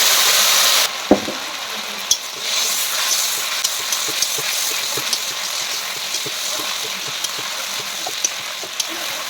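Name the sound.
spice paste of chilli, bay leaf and ginger frying in oil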